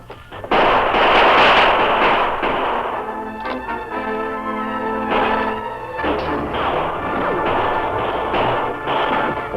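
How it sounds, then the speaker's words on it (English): Gunshots ring out in a radio drama shootout between outlaws outside and men inside a shack in an old western, with loud repeated blasts and crashing impacts that stay dense and continuous with no voices. "For some time, shots were exchanged between those in the shack and the 4 outlaws on the outside."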